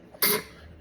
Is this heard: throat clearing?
yes